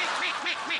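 A human voice imitates village pond ducks quacking in fright with three quick, nasal quacks in rapid succession, loud and close, on a comedy stage performance.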